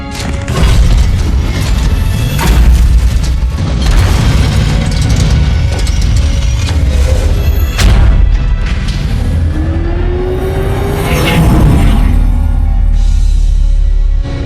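A loud explosion in a Halo video game cutscene: heavy booms and crashing impacts with rumbling debris and swelling cinematic noise, dense and continuous throughout.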